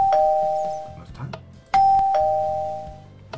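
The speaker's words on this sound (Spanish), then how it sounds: "Voy a dar al timbre este de aquí que me gusta más." A doorbell rings twice in the Minecraft video game, each press giving a clear two-tone ding-dong that rings out and then decays, with a brief gap between the two rings.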